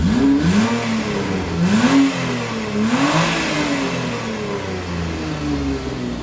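A 2008 Kia Sportage with the 2.7 engine revved repeatedly in loud, close blips, each rising and falling in pitch, then settling toward a steady higher idle hum.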